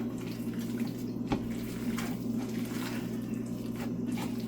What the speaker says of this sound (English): Just kind of hoping to get the water going,